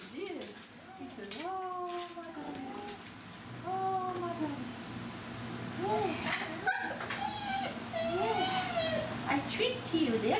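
Dogs at a grooming session whimper and whine in rising and falling tones, with occasional short yips, while someone talks over them throughout.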